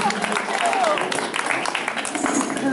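Audience applause for a helper at a Halloween senior health fair, a steady patter of clapping from a modest crowd that carries through the whole clip, with voices calling out over it.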